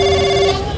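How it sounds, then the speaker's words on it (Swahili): A telephone ringing loudly and close by, an electronic bell tone with bright harmonics that sounds for about half a second, then cuts off. "wacha nipigie boss Mtune simu"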